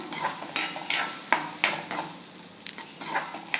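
Rice being stirred in a kadhai over a low flame for traditional jaggery kheer, giving a soft sizzle and a few distinct spatula scrapes and knocks that fade out toward the end.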